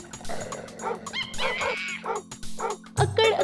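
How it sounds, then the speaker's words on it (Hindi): Several dogs bark loudly in quick, sharp bursts as a sound effect inside a classic Hindi children's rhyme, the barks mixed with the song's music. "बंदर जी के तेवर देख के जोर से कुत्ते भौंके"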